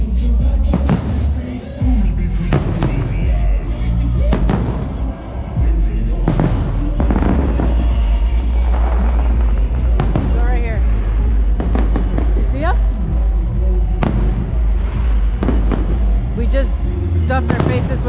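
Fireworks go off in loud bangs and pops at irregular intervals at Disneyland, with people chatting and a crowd murmuring underneath throughout.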